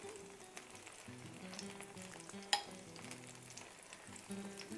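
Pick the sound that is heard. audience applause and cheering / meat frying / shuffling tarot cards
meat frying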